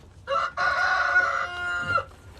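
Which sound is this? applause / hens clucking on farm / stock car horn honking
hens clucking on farm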